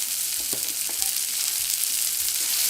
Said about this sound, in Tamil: இதில் வெங்காயத்தை போடுங்க. சரியாக வதங்கிறதுனால கொஞ்சம் உப்பாக போடுங்க